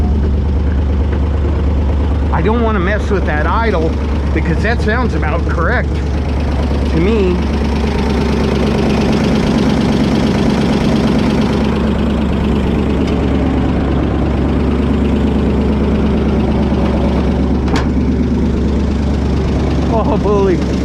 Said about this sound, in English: I don't want to mess with that idle because that sounds about correct.